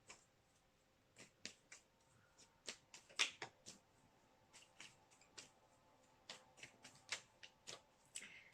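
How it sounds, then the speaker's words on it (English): Tarot cards being shuffled in quick, crisp bursts of riffling and snapping, fairly close and quiet, with brief pauses between runs. "let me keep shuffling."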